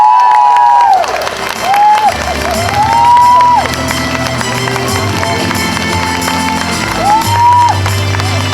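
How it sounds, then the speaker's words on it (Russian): Dense, steady applause from an audience at the Vasilei 2017 Komi song contest greets the Grand Prix winner, with crowd noise and a voice rising above it throughout. "Аплодисменты, дорогие друзья, обладателю Гран-при!"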